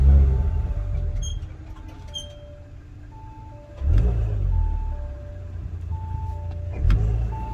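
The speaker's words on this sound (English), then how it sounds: "here's a start with the intake installed" A 2019 B9 Audi S5 fitted with an Injen SP cold air intake starts up: a series of soft electronic chimes, then the engine cranks and catches with a loud, close burst near the middle, settling into a rumbling idle before a second brief rev.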